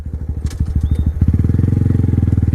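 Honda Grom motorcycle engine idling and then revving up, a close, loud, fast chugging pulse that quickens and steadies, with no talking.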